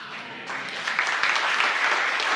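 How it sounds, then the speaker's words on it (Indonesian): A crowd claps steadily, the applause swelling slightly after a brief start and continuing without voices. "Kok tepuk tangannya?"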